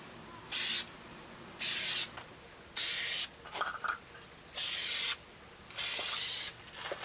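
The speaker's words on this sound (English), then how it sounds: "Using Duplicolor Scratch Fill Primer because Rust-Oleum sucks." A Duplicolor Scratch Fill primer spray can sprays onto a Miata's body panel during rust repair, making five loud, steady hissing bursts of about a second each, separated by short pauses with faint handling noise.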